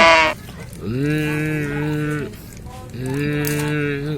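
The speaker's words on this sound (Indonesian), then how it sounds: "Sapi gimana bunyinya teman-teman?" A cow moos twice, long, deep harmonic lowing calls separated by a short pause, close and loud.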